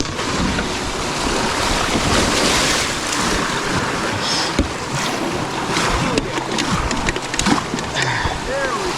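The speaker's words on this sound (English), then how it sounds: "Dang, that rapid is a beast looking back at it." Rushing river rapids and churning water on the Devils River, heard from a kayak, with steady broadband wash, wind buffeting the microphone and occasional splashes, while people shout and talk over it.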